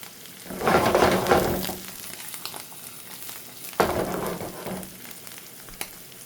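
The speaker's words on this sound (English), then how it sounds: "Now the garlic's going to go in just to take the edge off." Garlic sizzles and fries in a hot pan for pasta arrabbiata, a close, steady crackle in two loud bursts with a quieter stretch between, no talking.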